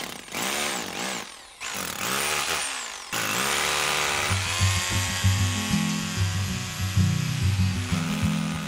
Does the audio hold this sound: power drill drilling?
yes